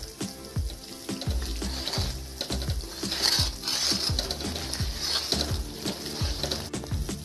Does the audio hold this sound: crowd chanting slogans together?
no